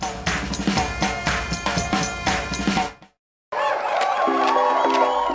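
A crowd cheers in the video game Go Vacation, bright applause-like bursts with rhythmic hits and music, breaking off briefly before a cheerful jingle resumes.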